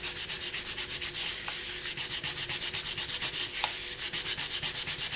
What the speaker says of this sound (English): Then you also want to just sand along those edges.